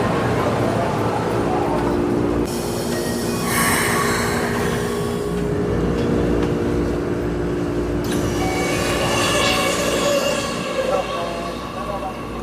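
A train rumbles past a station platform near Yokohama, a loud sustained roar and rattle with squealing tones rising and falling as cars go by, while a voice talks over it at times.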